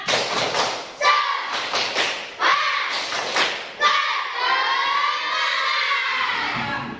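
Schoolchildren in a classroom doing a rhythmic spirit clap, bursts of loud group claps and thumps alternating with children's chanting voices.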